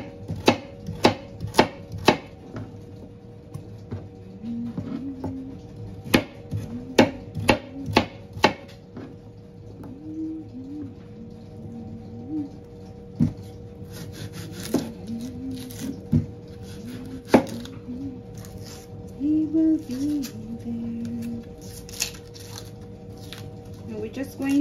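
Carrots and other vegetables for Jamaican stew pork being chopped with a knife on a board: irregular bursts of sharp, close knocks with pauses between, while a voice is heard faintly in the background.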